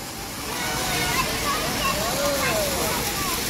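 River water rushes and splashes steadily and loudly outdoors, a continuous broadband wash filling the scene.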